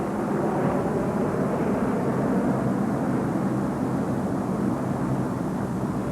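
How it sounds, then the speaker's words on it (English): A C-130 Hercules aircraft passes overhead with a steady, loud, broadband engine roar that stays constant throughout. "survivors will have time to react to the noise of the aircraft passing overhead"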